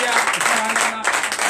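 Applause from a Sunday church congregation in Comè, Benin, a dense steady wash of clapping throughout, with a voice speaking over it.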